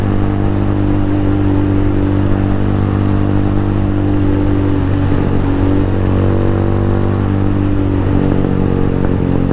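A Venom X22R motorcycle engine held at high RPM gives a loud, steady, close buzzing drone, its pitch dipping and shifting briefly midway, with no talking.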